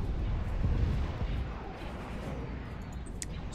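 B-Wing bombers fire on laser cannons in the space strategy game Star Wars: Empire at War, heard as a heavy, continuous low rumble of blasts and explosions, loudest early and then steady.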